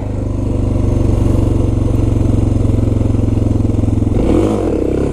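A Suzuki DR650 single-cylinder motorcycle engine pulls hard through a second gear wheelie, a loud, close, steady pulsing thump that drops in pitch near the end as the throttle eases, with no talk over it.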